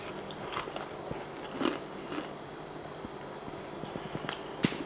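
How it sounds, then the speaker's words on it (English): Someone bites and chews the crunchy baked cheese top of a tuna mornay pasta bake, with faint crackles and crunches close to the mic over a quiet hum. "Oh, crunchy cooked cheese."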